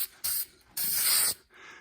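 An aerosol or spray gun lays a light first coat of paint onto a card file cabinet in short hissing bursts: two brief sprays, a longer one, then a softer trailing hiss, close and alone.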